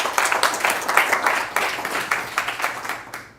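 A stand-up comedy audience applauds with dense, continuous clapping that swells and fades in waves, filling the room without pause.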